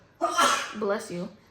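A single close sneeze bursts out sharply, followed by a brief trailing breathy sound, with no speech around it.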